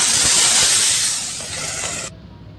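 Hot curry leaf tempering with cumin and red chilli poured into sambar, a loud burst of sizzling hiss lasting about two seconds before cutting off abruptly.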